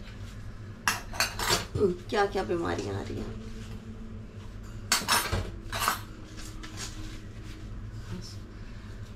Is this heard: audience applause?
no